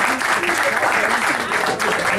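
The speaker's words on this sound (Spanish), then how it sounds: "Fuerte el aplauso para los novios." Lively, continuous applause for newlyweds at a family party, rapid dense clapping filling the room at a steady loud level.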